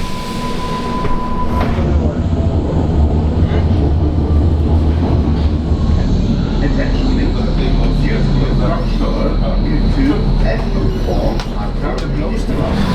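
Riding aboard a Hamburg metro train: a constant, loud rolling rumble with rail clatter and thin whining tones from the wheels and motors, heard from inside the carriage.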